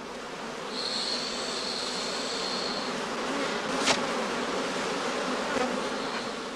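Honey bees buzzing steadily around straw skep hives standing in heather outdoors, a dense continuous hum with individual bees passing close by.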